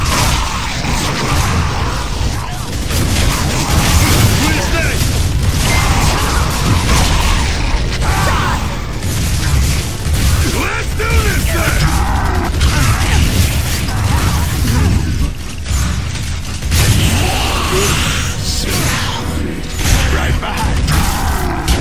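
Continuous Gears of War 3 combat noise with repeated gunfire bursts and booming blasts, loud and busy throughout, with occasional speech mixed in.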